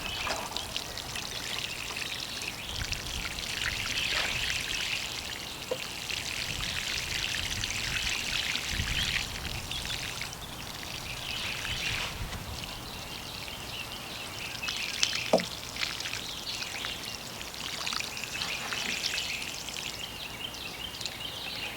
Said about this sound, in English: I'm gonna water them in right now